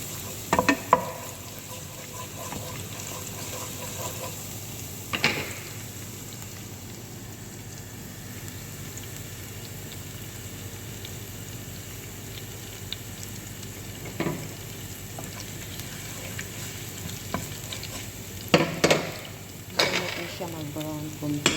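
Garlic fries in a pan for a creamy mushroom chicken pasta, giving a soft, steady sizzle with occasional louder clatters and scrapes of a utensil stirring against the pan.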